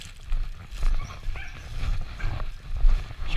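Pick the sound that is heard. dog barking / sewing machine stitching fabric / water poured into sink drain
dog barking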